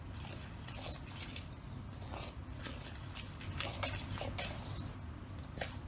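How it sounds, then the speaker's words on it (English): Spoon clinking against a bowl while garlic powder and onion powder are stirred together, a steady run of light scrapes and taps close by in a quiet kitchen. "Now all we need to do with this is just stir it together so we can get those flavors combined."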